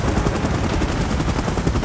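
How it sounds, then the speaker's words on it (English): Helicopter in the PUBG video game, a loud, steady rotor thump and engine roar that fills the whole stretch, with rapid chopping pulses and crackling layered through it and no voices on top. "Chopper in position."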